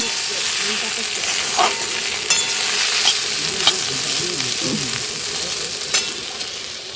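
Broad beans and potatoes frying in a pan at home, a close, continuous sizzle with several short scraping stirs at irregular moments, and no voices over it.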